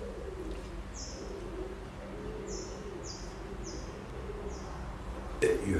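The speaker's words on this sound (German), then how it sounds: "ihr hört es ja, also Tauben sind ja sehr viele" Pigeons coo softly in a low, throaty murmur beneath a steady background hum, with a few short high chirps dotted throughout, in Jomtien, Thailand.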